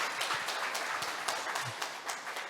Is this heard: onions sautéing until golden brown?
no